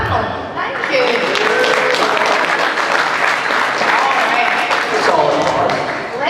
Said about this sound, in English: can we have a round of applause for this first part of the panel?